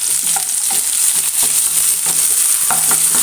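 Ginger, garlic, green chilli and curry leaves sautéing in a pan for a chicken roast, a loud, bright continuous sizzle with regular spatula scrapes and taps, close up and without speech.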